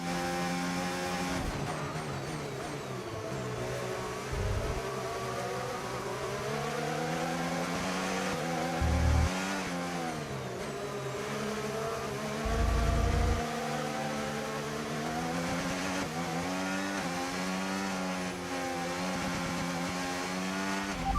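A Formula 1 car in F1 25 screams along at full throttle for a long stretch, its high engine whine rising and falling through gear changes under a steady rumble, with no speech.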